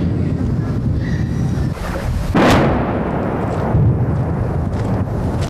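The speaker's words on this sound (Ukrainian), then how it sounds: "постійно чути роботу російської артилерії" Russian artillery firing around Bakhmut during shelling of the city centre: a constant low rumble with a sharp, loud boom near the middle and a further thud later, no voices.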